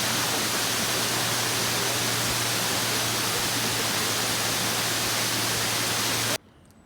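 Steady, loud rushing roar of Amicalola Falls, a tall waterfall in the Blue Ridge Mountains of northeast Georgia, constant broadband water noise filling the scene before cutting off abruptly near the end.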